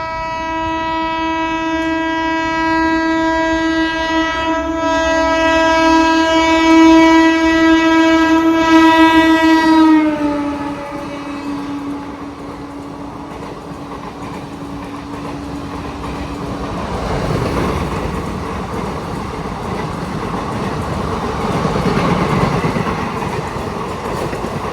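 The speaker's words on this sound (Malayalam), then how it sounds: "2 വണ്ടി ഒരേ സമയത്ത് വരുവാണ്. ഇപ്പുറത്തോടെ വരുന്ന മറ്റേ ഗ്യാൻ ഗംഗ എക്സ്പ്രസ്, അതായത് പൂനെന്ന് ബനാറസിലേക്ക് പോകുന്നതാണ്." Two Indian Railways express trains, the Pune–Banaras Gyan Ganga Express and the Goa Express, pass near Pune at the same moment; a loud sustained horn blares for about ten seconds, then wheels and carriages rumble steadily past, with no talking.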